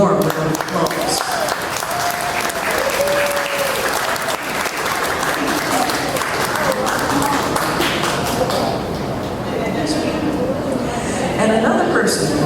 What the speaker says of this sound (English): So let's honor Sam Jones with a warm round of applause.